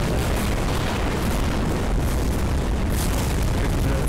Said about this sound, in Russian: Сколько взрывов происходит?